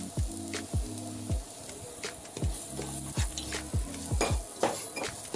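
Garam masala stirred into a sizzling tomato rice base with chicken, a spoon scraping the pot in repeated rhythmic strokes over a constant frying crackle, close and clear, no talking.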